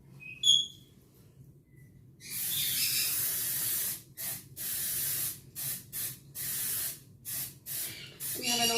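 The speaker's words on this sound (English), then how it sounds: "I quite often just use my pan spray, again, as long as they're greased well." Cooking spray is sprayed onto loaf pans for a banana coconut loaf: one long hissing burst, then a run of short, evenly repeated sprays, close and clear.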